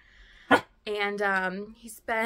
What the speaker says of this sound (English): if you hear some little barking and whining,